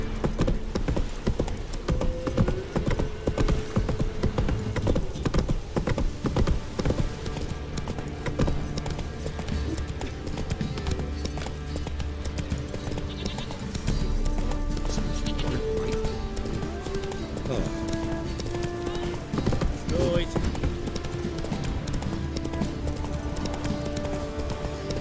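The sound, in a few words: horse galloping in video game The Witcher 3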